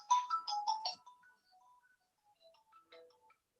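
A phone ringtone plays a quick bright electronic melody, loud and close at first, then trails off into softer, scattered tones.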